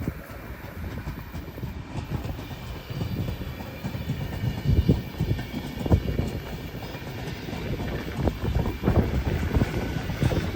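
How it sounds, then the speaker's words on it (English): A passing southbound intercity train hauled by a Newag Griffin Class EU160 electric locomotive rumbles along steady and fairly close in central Poland, its broadband roar swelling and settling with gusts of wind buffeting the microphone. "a southbound intercity train led by a Newag Griffin Class EU 160"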